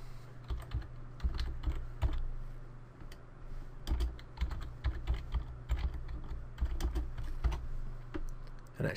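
Rapid keyboard typing, irregular clusters of key clicks and occasional heavier keystrokes over a steady low hum, close and continuous.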